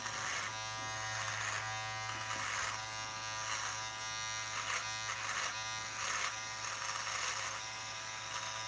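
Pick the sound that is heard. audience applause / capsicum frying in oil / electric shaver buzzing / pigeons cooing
electric shaver buzzing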